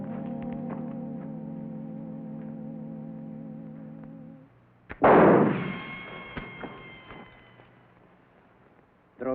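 A single sharp gunshot cracks out near the middle, loud and close, ringing briefly before fading, after a stretch of low droning music; a short sharp burst recurs at the very end.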